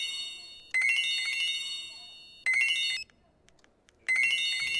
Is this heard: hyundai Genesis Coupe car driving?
no